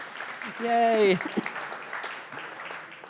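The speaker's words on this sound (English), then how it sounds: "Oh, I'll let you clap." Audience applause at a tech conference talk in San Francisco: a soft, brief patter of clapping from the crowd, partly under a voice calling out a short cheer, then fading beneath continued talk.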